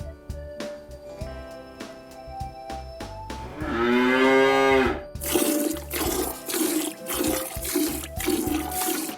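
A cartoon cow in a children's cooking game moos loudly once with a long harmonic call, surrounded by clattering and splashing noises and a rushing, broadband burst of sound afterward.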